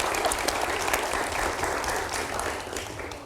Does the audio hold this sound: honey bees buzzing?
no